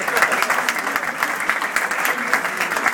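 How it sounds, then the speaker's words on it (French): Warm applause from an indoor audience at a Hainaut pastry makers' gathering, close and loud, a continuous dense patter of many hands clapping without pause. "je voudrais qu'on l'applaudisse surtout"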